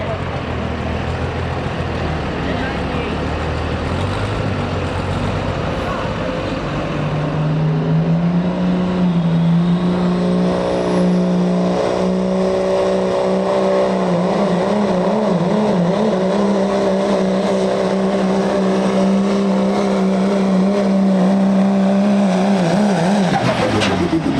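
A pulling truck's engine roars loudly and steadily at a county fair truck pull, rising in pitch as it labours down the track, with a crowd and announcer faintly beneath and a brief drop at the end.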